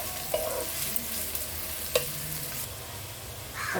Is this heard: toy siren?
no